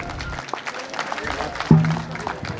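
An audience at an awards ceremony for the Rajput Vikas Samiti National Merit Award claps after a song, a dense, steady spatter of applause running under the hall's background noise.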